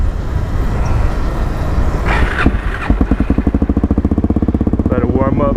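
A cold supermoto motorcycle engine sits on choke, with some muffled noise and a rev first, then settling into a fast, even, pulsing idle close to the microphone.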